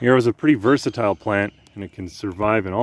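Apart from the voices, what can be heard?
None of the usual background noises is heard.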